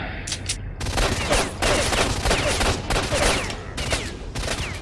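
Rapid bursts of gunfire in S.T.A.L.K.E.R.: Shadow of Chernobyl crackle loudly in repeated volleys, with sharp shots layered over a dense, continuous background of game noise.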